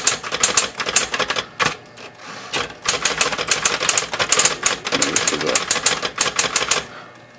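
A cleaned and serviced Smith Corona electric typewriter typing in fast, loud, crisp keystroke bursts with brief pauses, the strikes close and forceful.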